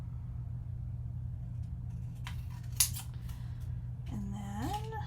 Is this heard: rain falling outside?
no